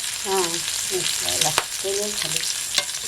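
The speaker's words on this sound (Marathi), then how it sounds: "हा खडस सुद्धा फ्राय करायचा एक दहा मिनटामध्ये मच्छी फ्राय होते" Khadas river fish frying in a pan, a dense close sizzle under a melodic background voice or music, with a couple of sharp clicks from turning the pieces.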